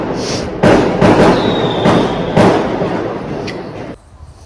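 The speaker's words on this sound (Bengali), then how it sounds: "এই তো কি পরিমাণ আতসবাজি হচ্ছে" Fireworks bursting again and again nearby in a neighbourhood, several loud cracking booms in quick succession with a whistling rocket streak between them, the barrage cutting off sharply near the end.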